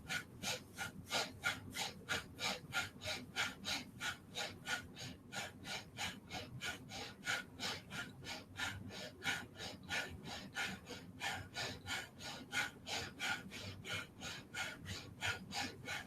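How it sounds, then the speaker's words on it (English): Fast, rhythmic alternate nostril breathing during a yoga session gives a steady train of sharp, airy breaths through the nose, each closely spaced and evenly paced, heard up close for the whole stretch without talk. "inhaling with the right, and exhaling with the left"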